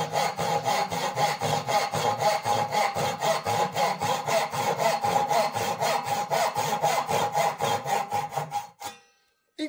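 A hand saw cuts through a wooden workpiece at a carpentry school, with steady rhythmic back-and-forth strokes, loud and close, running for nearly the whole stretch before stopping abruptly near the end.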